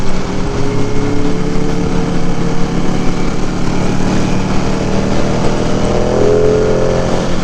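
A Ducati Panigale V2 motorcycle is ridden, giving a loud, continuous engine drone with wind noise. The pitch shifts slightly as the rider changes speed, and no one speaks.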